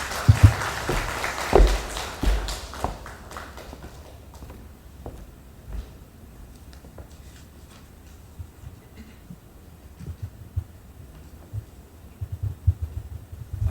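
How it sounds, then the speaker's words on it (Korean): Applause from a forum audience in a hall, a burst of clapping at the start that thins out into scattered sounds and low background noise. "따뜻한 박수 부탁드립니다"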